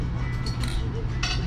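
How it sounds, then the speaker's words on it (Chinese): Glasses clink in a birthday toast at a Wang Steak restaurant table: a few short, bright chinks ring out over a steady low restaurant hum. "来干杯一下"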